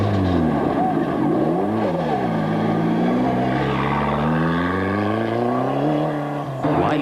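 A Conquest rally car runs through stage 28 of the 1995 Castrol International Rally, its engine note rising and falling steadily and loud throughout, with commentary spoken over it.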